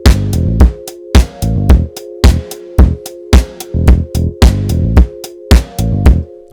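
Drum beat with bass and a sustained pad from the Expand plugin, punchy kick and snare hits in a steady looping rhythm over held chord tones, loud and close, with no talking.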